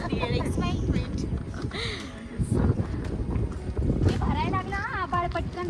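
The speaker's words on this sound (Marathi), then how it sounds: "मस्त डेड एंड आहे. छान वारा पण छान." Wind gusts buffet the microphone on an open dead-end road, a rough, steady rushing under nearly continuous conversation from several people.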